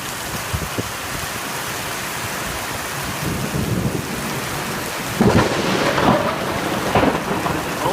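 A Northeast Texas thunderstorm with steady rain hissing throughout, then thunder rumbling low midway and a sharp loud nearby crack followed by rolling booms toward the end.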